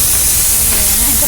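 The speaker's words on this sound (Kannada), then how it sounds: "ಕುಕ್ಕರ್ ವಿಸಿಲಿ" A pressure cooker whistle vents steam while chicken cooks in a home kitchen, a loud continuous hiss that stays steady for the whole moment with a faint wavering tone underneath.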